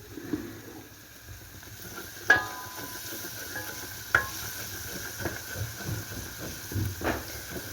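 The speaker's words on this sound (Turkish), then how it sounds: "Köftem kaynamaya başlasın." Elazığ-style stuffed içli köfte simmering in a pot with tomato paste, a soft continuous hiss and bubbling under a few clear clinks and stirring knocks.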